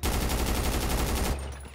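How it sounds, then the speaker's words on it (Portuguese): A rapid burst of automatic gunfire at a wall in the video game GTA 5, a loud, evenly spaced string of close shots lasting over a second before it cuts off into a fading tail. "agora deixa eu acertar uma rajada naquela parede"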